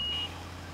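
A single high electronic reversing beep from a construction vehicle in Bau-Simulator 2015 cuts off quickly over a low engine hum.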